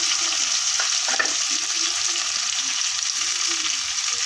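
Steady sizzling and frying of mango and chillies in a hot pan, loud and continuous, with faint stirring scrapes and no talking.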